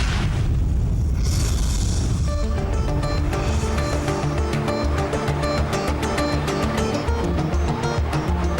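Rock blasting with delayed detonator capsules in an underground mine makes a heavy low rumble that swells into a long dense series of cracking, rolling blasts, loud and continuous throughout.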